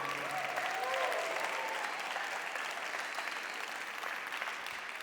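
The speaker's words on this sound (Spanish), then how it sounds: "Vamos, podemos hacer mejor que eso, un aplauso fuerte al Señor." A church congregation claps during an evening midweek service, producing a sustained, even roar of applause from many people that holds steady throughout, loud and filling the room.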